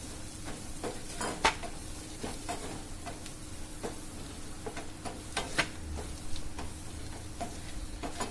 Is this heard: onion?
yes